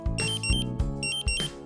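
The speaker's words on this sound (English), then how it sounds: "The A2 main alarm indicates danger to life. When this alarm sounds, evacuate the danger area immediately." A Dräger PAC gas detector sounds its A2 main alarm in a rapid, loud, piercing series of electronic beeps, about four bursts in under two seconds, with no talking.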